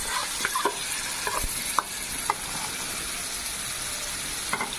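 Chicken sizzles steadily in a pan with softened tomato as it is stirred for Maharani pulao, with a constant frying hiss broken by a few sharp spatula scrapes and clicks.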